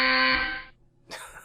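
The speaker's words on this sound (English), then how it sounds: "it'll be a pretty loud alarm sound" Loud stock alert alarm from a shopping app, a harsh buzzing tone that sounds for about half a second, cuts out, then starts again.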